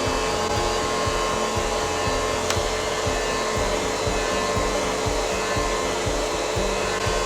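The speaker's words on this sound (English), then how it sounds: "as I'm clipping, the hair is going straight into the vacuum" A UWANT dog hair vacuum with clippers attached runs during dog grooming, giving a steady, loud motor whir with faint rhythmic ticking underneath and no speech.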